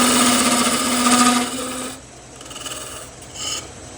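A wood lathe turns a pepper mill blank with a rattling, buzzing vibration that is loud for the first two seconds, then drops to a quieter hum with faint scraping.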